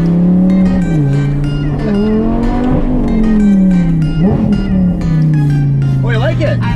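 A Lamborghini supercar drives along, its engine holding a steady, close drone that rises and dips with speed, while voices talk inside the car throughout.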